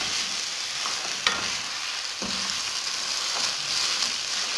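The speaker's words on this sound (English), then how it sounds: "Then I will keep on stirring it." Rice cooks in a pot with a little salt while being stirred, a steady soft sizzle with a few faint scrapes of the spoon, no voices.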